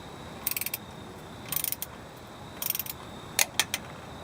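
Torque wrench ratcheting in short bursts while tightening differential cover bolts to 25 foot-pounds during a differential oil change, four quick clusters of crisp clicks spaced about a second apart, close and fairly quiet with no talking.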